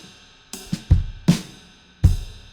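A short drum pattern of kick, snare and cymbal hits through room microphones, with plenty of room ambience and a natural, spacious decay between strikes.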